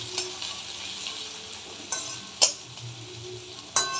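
Onion frying in hot oil after whole cumin, bay leaf and dried chilli, a soft steady sizzle with occasional sharp clinks and scrapes of a spoon stirring the pan, close and fairly quiet.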